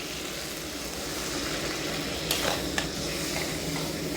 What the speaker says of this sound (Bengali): এর মধ্যে আমি দিয়ে দিচ্ছি জল।